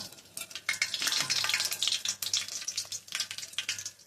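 Loud, crackling sizzle of whole spices (cinnamon, cloves, cardamom) dropped into hot oil, a dense spitting hiss that swells and keeps bubbling steadily.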